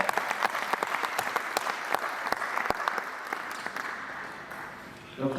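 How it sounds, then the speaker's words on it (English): Applause from a seated audience at a student association induction event, a steady patter of many hands clapping close by, fading toward the end before a burst of noise. "And clap for her."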